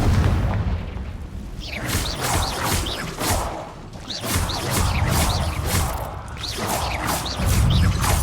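Confringo blasting spell explosions in Hogwarts Legacy, a series of loud, rumbling booms with crackling, whooshing bursts repeating in waves.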